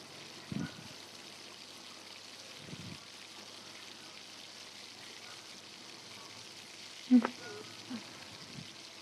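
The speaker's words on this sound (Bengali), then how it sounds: "মাংসটা আস্তে আস্তে কমে আসছে আর কত সুন্দর কষানো হচ্ছে" Duck meat braises in a pan, giving a faint, low hiss with a few soft stirring knocks and scrapes scattered through the quiet.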